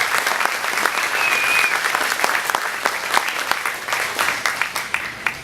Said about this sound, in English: Nice round of applause for that